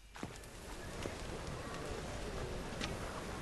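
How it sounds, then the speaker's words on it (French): Footsteps of a character walking in The Witcher 3, a steady rhythmic patter of steps over continuous game ambience and background noise. "le bruit de pas"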